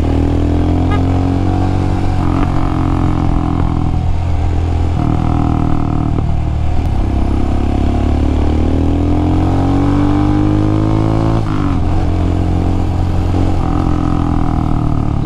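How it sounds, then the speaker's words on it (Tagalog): A motorcycle exhaust revving to high RPM on a long highway ride, a loud close engine note rising and falling through repeated gear changes with steady wind roar and no talk. "Ganda pa naman ng tunog ng tambucho kapag nasa high RPM na."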